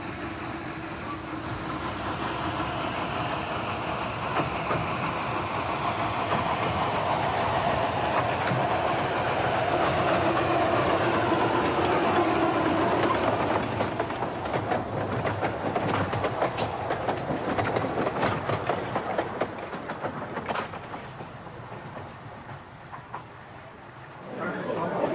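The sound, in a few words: steam train running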